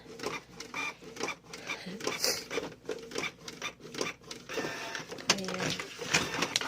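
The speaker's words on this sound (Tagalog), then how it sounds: "Oh, sisiraan tayo ng printer." A printer runs through pages with rhythmic mechanical whirring and clicking, fairly close, while someone talks over it.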